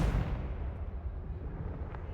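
Confringo fire spell blast from Hogwarts Legacy: a loud low explosive burst opens, then a rumbling roar rolls on and slowly fades, with no talk over it.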